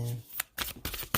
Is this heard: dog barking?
no